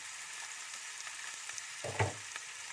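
Onions fry in ghee in a home kitchen while making negresco, a faint, even sizzle with one soft thump partway through.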